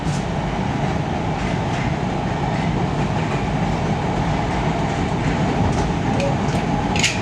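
A CTA Blue Line L train to O'Hare runs at speed, heard from inside the car as a loud, constant rumble with rattling and faint clicks of the wheels on the rails.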